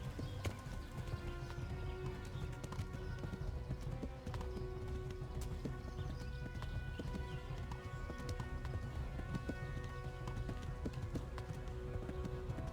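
Steady galloping hooves clip-clop in a fast, even rhythm in Kingdom Come: Deliverance, a horse running close by with a brief whinny, continuous throughout.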